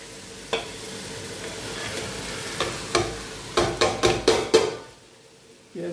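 In a pan of hot oil cooked with ginger, garlic and cumin, onions go in and sizzle softly, broken by a quick series of sharp scraping and clanking strikes of a utensil against the pan.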